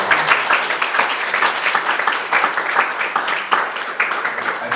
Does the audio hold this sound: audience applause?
yes